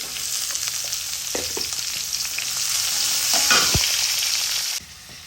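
Chopped onions drop into hot oil with whole cumin seeds for a jackfruit and shrimp curry, setting off a loud, steady sizzle with stirring scrapes, a sharper burst midway, then a sudden drop to quieter frying near the end.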